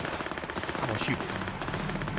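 Rapid automatic gunfire in the Cyberpunk 2077 video game crackles in quick bursts that run continuously at moderate loudness, with faint talk mixed in.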